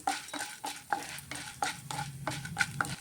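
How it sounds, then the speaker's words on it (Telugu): Lentils being fried in oil in a pan on the stove, with rhythmic scraping and clinking strokes of a spoon stirring about every third of a second over a faint sizzle. "దోరగా వేయించుకోవాలండి, చాలా బాగుంటాయి ఈ పప్పులు"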